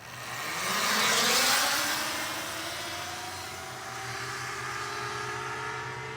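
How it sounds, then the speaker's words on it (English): Two electric dirt bikes, a Talaria Sting MX3 and a Sting R, drag racing, a rising motor whine and rush of passing noise that swells near the start and then fades to a steady distant drone. "Reed and Alex are going to do a drag race"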